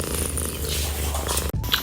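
A cat purrs close by in a steady, loud low rumble that continues for almost two seconds, broken by a brief dropout near the end.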